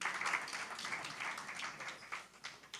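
A church congregation gives fairly faint, diffuse applause after a worship song, a soft, sustained patter of many hands heard from some distance without speech.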